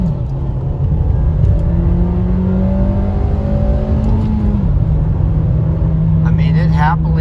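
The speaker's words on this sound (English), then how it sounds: "let's just do a quick light acceleration." A 2023 Nissan Versa S with a manual gearbox pulls away in a light acceleration, the engine hum rising steadily in pitch before dropping at a gear change and settling, heard from inside the cabin with a steady road rumble underneath.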